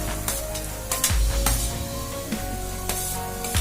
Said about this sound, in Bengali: রসুন আর পেঁয়াজ একসঙ্গে ভাজবেন।